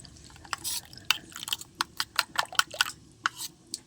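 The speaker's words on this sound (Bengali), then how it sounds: "এরকম করে ভালো করে ঘুলিয়ে নেবো জল দিয়ে" Mustard paste being stirred with a little water in a bowl for Bengali mustard hilsa, giving a quick run of sharp clinks and scraping taps from the utensil against the dish, close and fairly loud.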